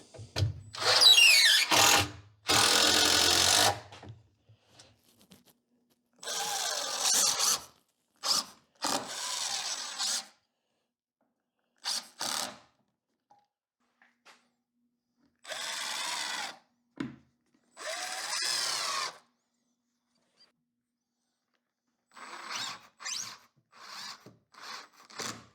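Power drill driving screws into a radial arm saw cabinet, heard in several separate loud bursts of a few seconds each, separated by quiet pauses, up close with no talking.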